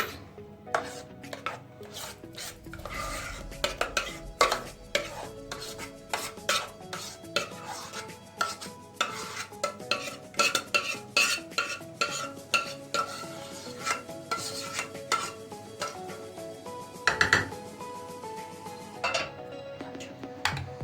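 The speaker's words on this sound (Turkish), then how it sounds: "Evet arkadaşlar muhallebimizi böyle güzelce yaydırıyoruz her tarafına." A utensil scrapes and taps against a pan while spreading custard cream over a syrup-soaked Cypriot cake, giving a quiet, irregular series of close scraping strokes and clinks with no talk.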